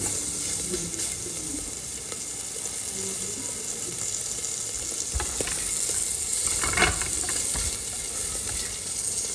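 Meaty bacon sizzles steadily in a pan in a home kitchen, a continuous hissing fry with occasional louder crackles and pops, mixed with background clatter and water-like noise.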